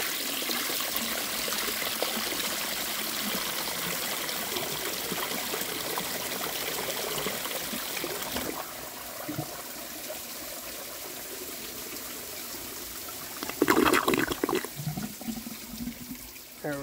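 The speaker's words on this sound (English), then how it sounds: "So now I'm going to wait for the tank to fill up, and I'll flush a washcloth." A handmade clay toilet flushes a washcloth: steady rushing, trickling water from the refilling tank gives way to a sharp, louder gush of the flush near the end, close and without talk.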